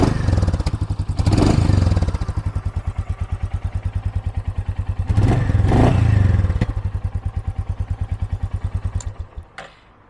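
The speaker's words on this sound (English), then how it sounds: "So I'll give it just a couple small revs for you." A 2022 Royal Enfield Meteor 350 single-cylinder engine idles with a steady, loud thump, rising in two short blips of revs before settling back and being switched off, with no talk over it.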